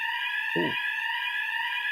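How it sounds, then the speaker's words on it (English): A fire alarm sounds continuously, a steady high electronic tone that fills the room, with a brief low thump partway through. "This is a fire alarm, but it just goes off every now and then."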